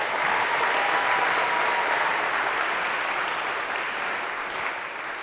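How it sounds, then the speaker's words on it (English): Dense, sustained applause from a large audience in a Harvard CS50 lecture hall, a loud even wash of clapping that tapers slightly toward the end, with no speech over it. "a round of applause here if we could"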